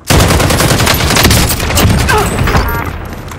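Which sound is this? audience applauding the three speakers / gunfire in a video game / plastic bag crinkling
gunfire in a video game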